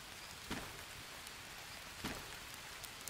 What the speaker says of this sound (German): Okay, jetzt regnet's.